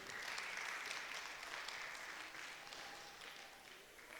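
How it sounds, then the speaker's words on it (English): Audience at a cultural gathering claps hands together in steady, dense applause heard from some distance, fairly faint and gradually tapering off toward the end. "Can we clap our hands together,"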